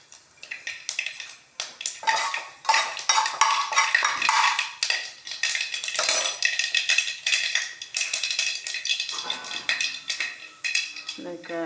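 Chili powder stirred into a pan of frying ingredients while cooking, with loud, continuous metallic scraping and clinking of a spoon against the pan, mixed with kitchen clatter.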